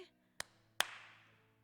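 Two sharp hand claps ring out about half a second apart, the second louder with a lingering room echo, in an otherwise quiet indoor space.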